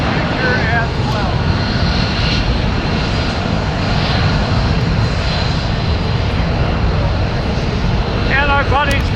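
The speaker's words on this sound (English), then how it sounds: "Vintage aircraft next off your left as you get the sky." Vintage propeller airplane flying at the Warriors Over The Wasatch air show at Hill Air Force Base, a loud, steady engine drone filling the whole stretch, with a public-address voice talking over it.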